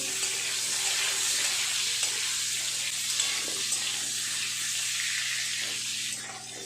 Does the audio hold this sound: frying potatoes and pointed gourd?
yes